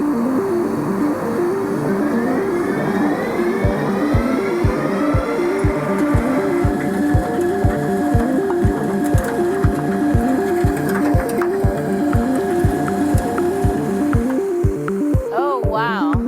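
A machine turns a moist compost windrow, giving off a steady mechanical drone with regular, evenly spaced clanking beats that run throughout, close and fairly loud.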